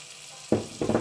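Thyme leaves and shallot hit melted butter in a pan, breaking into a sudden loud sizzle after a quiet start, then a second burst of sizzling and stirring as the pan flares up again.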